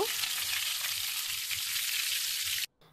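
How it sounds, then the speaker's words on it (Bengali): Fish sizzles as it fries in hot mustard oil in a pan, a steady, close crackle and hiss that runs without talk and cuts off near the end. "এখন এগুলোকে আমি গরম তেলের মধ্যে ভেজে নেব।"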